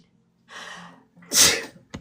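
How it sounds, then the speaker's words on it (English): A single close sneeze: a breathy intake followed by a sharp, explosive burst, then a brief click. "Seems like I have to sneeze every time I start a live."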